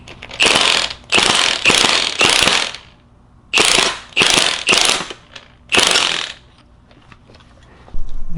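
Ratcheting clicks as a bearing puller is cranked to remove a roller bearing from a Subaru 5-speed center differential, several bursts of rapid close metallic clicking separated by pauses, no voices.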